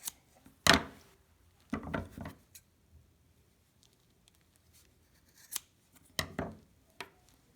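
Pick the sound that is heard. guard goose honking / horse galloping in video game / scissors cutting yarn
scissors cutting yarn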